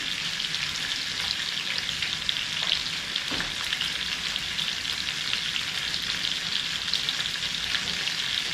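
Bacon fries in a pan, giving a dense, continuous crackling sizzle heard up close at a steady level with no one speaking.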